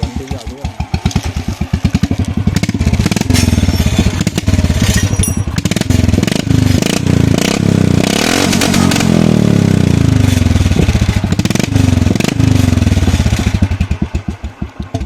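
A Royal Enfield motorcycle engine runs with its original silencer removed, a loud, raw thumping exhaust that revs up and settles back repeatedly, close by with no talk.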